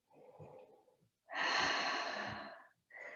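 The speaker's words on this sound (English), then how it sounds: "Take a couple of deep breaths here." Deep breaths drawn during a yoga standing split: a quiet breath, then a long loud airy inhale or exhale lasting over a second, followed by the start of another breath, close and without talk.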